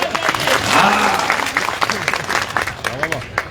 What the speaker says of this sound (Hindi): सुन लेना तो बजाओ ताली।